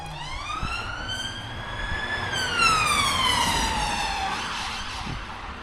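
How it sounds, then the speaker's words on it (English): A police car siren wails loudly, its pitch rising and falling as the car sweeps past nearby over steady traffic rumble. "a police car going flying past"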